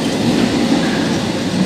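Metro train pulling into a Bucharest subway station, a loud steady rumble of wheels and rail noise filling the platform with no pauses or voices.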